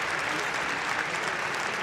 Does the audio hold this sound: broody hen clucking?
no